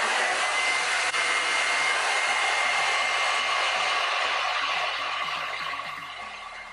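A hair dryer on its cold setting blows steadily at eyelashes, a loud, close, continuous whoosh with a low motor hum that fades slightly near the end.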